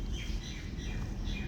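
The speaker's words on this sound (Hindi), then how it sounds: "गर्मियाँ आने वाली हैं और चिड़ियों ने ठिकाने ढूंढना शुरू कर दिए हैं। शोर सुन सकते हैं आप।" Small birds chirp and tweet repeatedly near a home as they nest at the start of summer, bright overlapping calls over steady background noise.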